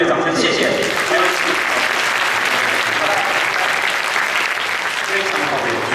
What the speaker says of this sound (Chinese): 那我们再用热烈的掌声，谢谢。